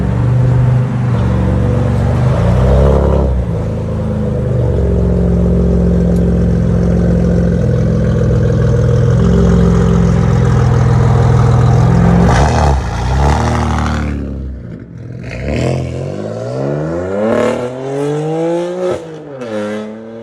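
2015 BMW M4 3.0L I6 turbo with straight pipes, catless downpipe and quad carbon-fiber tips, heard close and loud, first idling and droning, then revving repeatedly in sharp rising bursts.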